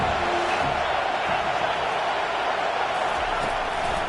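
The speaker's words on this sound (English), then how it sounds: "Third down, and the crowd really getting into it." A stadium crowd in the NCAA 25 college football video game keeps up a dense, continuous roar of cheering throughout, loud and steady, with no clear single voices standing out.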